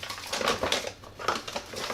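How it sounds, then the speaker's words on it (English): A plastic bag holding flour crinkles and crushes as it is handled, close and fairly loud, with bursts of rustling rising and falling irregularly and no talking. "3/4 of a cup of flour. Take it out of this plastic bag."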